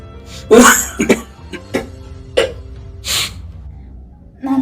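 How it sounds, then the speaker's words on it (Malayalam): Several sharp, harsh coughs in short bursts, close by, with brief pauses between them and a final cough starting at the end. "നന്നായിട്ട് ചുമക്കുണ്ടല്ലോ"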